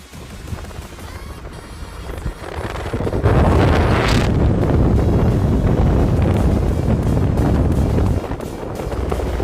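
Wind rushes loudly past an open car window while driving in Coorg, a rumbling roar that swells after a few seconds and stays strong throughout.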